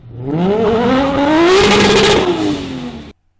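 A drift-built car with no roll cage revs hard at a hillclimb, its engine note rising steadily in pitch over about three seconds, loud and close, then cutting off abruptly.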